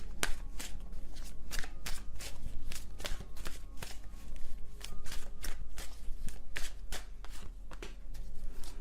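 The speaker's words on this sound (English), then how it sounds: "Let me shuffle them." Tarot cards being shuffled close up in quick repeated riffles and slides, a brisk papery rhythm over a low steady hum.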